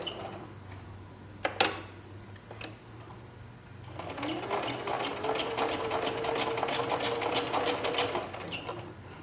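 Sewing machine stitching a hem on stretchy knit fabric with fusible interfacing: a few quiet clicks first, then a steady, rapid mechanical whir running for several seconds, close by.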